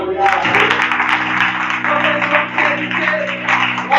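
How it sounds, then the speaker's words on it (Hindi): A congregation at a Sunday church service claps along loudly and continuously, with dense applause layered over sustained tones and voices. "विश्वास करने वाले जोर से ताली बजाकर"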